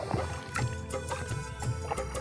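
Oars working a tin rowboat on the Padma river, giving soft rhythmic knocks and splashes about every half second against steady open-air noise.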